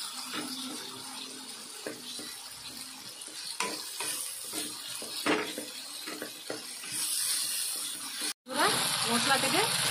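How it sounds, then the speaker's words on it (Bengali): Masala paste for an egg curry fries and sizzles in a pan, with stirring scrapes and clinks now and then and a louder burst of sizzling near the end. "মশলা থেকে তেল ছেড়ে দিয়েছে, মশলাটা ভালোভাবে কষানো হয়ে গেছে"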